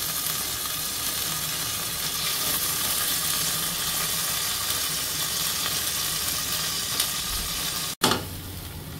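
Ginger paste stirred into sizzling spices in a hot pan, a steady close frying hiss running throughout before a brief clatter near the end.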